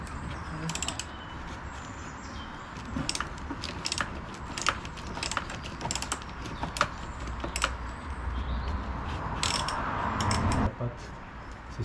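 Ratchet wrench with a socket loosening a battery bolt under the hood of a VW Caddy 4, giving a run of quick metallic clicks in irregular bursts against a low background hum.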